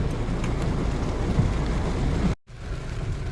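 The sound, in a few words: heavy rain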